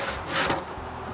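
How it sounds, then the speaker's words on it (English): A handsaw cuts through the round trunk top of a wooden king post for a shop roof truss, a brief close rasping stroke of the blade through timber. "First thing to do is to cut the bad part on top of the king post."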